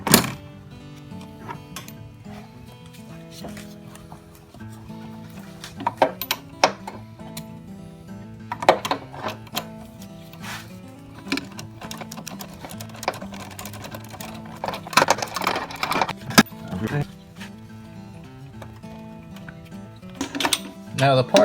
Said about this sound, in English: So let's start taking off this bolt here.